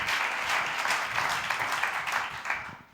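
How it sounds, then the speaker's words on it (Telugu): A church congregation at a Sunday worship service claps loudly and continuously, dense overlapping applause that stays strong before trailing off at the end. "దేవుని నామమున చప్పట్లు గట్టి కొడదామండి"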